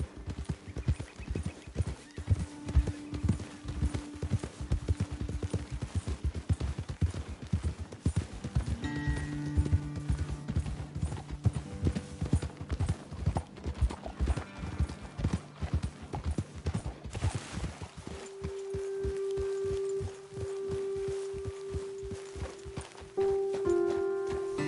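Steady clip-clop of horse hooves at a riding pace in Red Dead Redemption 2, close and continuous, with a horse whinnying partway through over faint background music.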